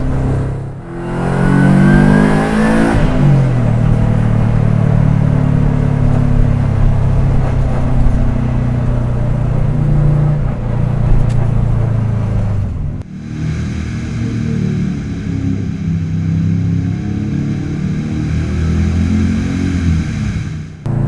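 A 2001 Subaru Impreza coupe with a WRX engine swap accelerates hard, engine rising in pitch through the revs, a brief shift break, then pulling again with loud continuous rumble and road noise.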